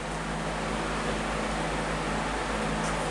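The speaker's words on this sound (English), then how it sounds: "first off I want to apologize for the fan noise." A steady broadband whooshing hum of an electric fan running, constant and close, with a low droning tone underneath and no talking.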